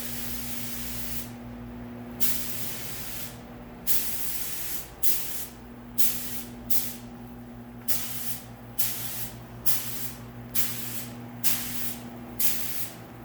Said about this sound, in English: Now he's about to shoot some clear coat.